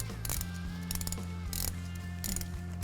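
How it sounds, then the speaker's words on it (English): A 3/8 drive ratchet with a 10mm socket, swivel and extension cracks loose an AC compressor bolt, giving rapid repeated clicking bursts close up over a low mechanical hum. "we'll take our 10mm socket, a swivel, and an extension on a 3/8 drive ratchet, and we'll crack the first bolt loose"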